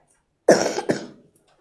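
A single close cough with a throat-clearing quality, a sharp burst followed by a second smaller cough, heard alone in a quiet room.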